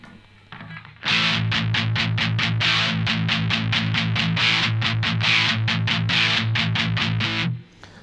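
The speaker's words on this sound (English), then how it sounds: "It's a pretty good pedal for that distortion sound." Electric guitar through a Boss DS-1 distortion pedal at maximum gain, chugging in a fast, even rhythm of repeated strums, loud and close, ending after several seconds.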